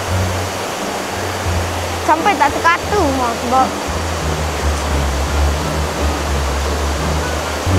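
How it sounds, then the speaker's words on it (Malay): A large waterfall roars as a dense, steady wash of rushing water throughout, and voices briefly talk over the constant roar partway through. "Itulah air terjun yang terbesar. Besar sangat air terjun tu."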